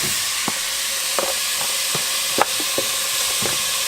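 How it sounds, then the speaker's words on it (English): Ground beef frying in a pan with onions, peppers and garlic, a steady close sizzle with a few soft stirring scrapes scattered through it. "it's time to start cooking our hamburger"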